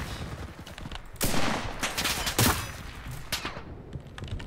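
Rapid gunfire bursts from the World War II shooter Enlisted, several loud overlapping shots and a fusillade spread across the clip, with no talk.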